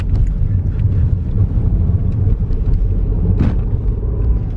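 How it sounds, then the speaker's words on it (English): Inside a car travelling fast along a narrow road, a steady low road rumble mixes with wind buffeting, continuous and fairly loud, with no talking. "I'm driving a bit fast, man."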